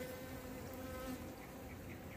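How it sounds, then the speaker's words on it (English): Bees buzz close by in a tropical backyard fruit garden, a steady droning hum that carries through the whole moment without talk. "What kind of bees are these? They don't look like the carpenter bees."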